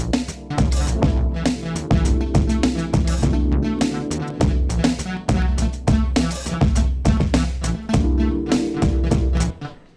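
An R&B synth riff built with FL Studio stock instruments, loud and upfront, repeating a punchy rhythmic pattern of short notes over a heavy bass line, with no voices.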